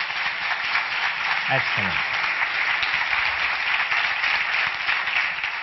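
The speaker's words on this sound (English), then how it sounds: "that deserves an applause" A lecture audience applauds steadily and loudly for several seconds, a dense wash of many hands with a brief spoken word over it near the start.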